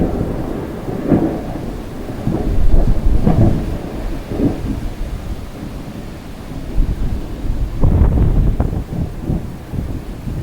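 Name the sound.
thunder in an electrical storm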